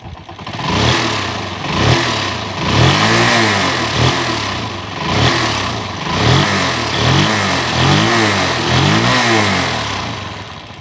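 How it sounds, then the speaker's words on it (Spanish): A motorcycle engine revs repeatedly in short, rhythmic bursts, rising and falling about once a second, loud and close with no talking. "vas a agarrar esto, vas a acelerar así de."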